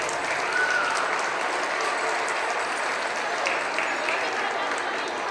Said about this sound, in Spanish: con un aplauso bien bonito.